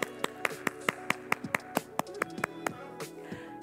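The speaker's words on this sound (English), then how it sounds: "Let's give a round of applause for Carol Downing and Delphine Williams." A church congregation at Ebenezer Baptist Church gives a short round of applause after a prize drawing announcement. Sharp, distinct claps come at a quick, even rhythm, as if from a small number of people nearby, and then thin out toward the end.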